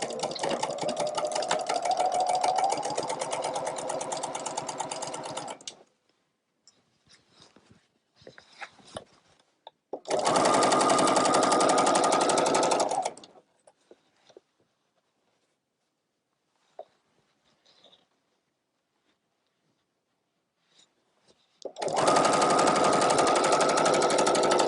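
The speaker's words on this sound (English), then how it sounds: "And I'm going to sew next to that fusible interfacing right there." A sewing machine stitches a tote bag alongside fusible interfacing, running in three steady loud bursts of rapid needle clatter separated by quiet pauses with small clicks.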